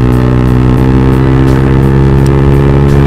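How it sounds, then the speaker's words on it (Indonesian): A motorcycle with a loud aftermarket exhaust idles right beside the listener, giving a steady, heavy, harmonic drone that holds constant throughout. "Knalpot nah, bacot abis."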